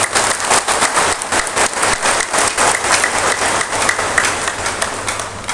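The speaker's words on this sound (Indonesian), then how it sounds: "Karena itu tepuk tangan untuk beliau." A church congregation claps loudly and continuously, with a few individual claps standing out over the steady applause and no speech.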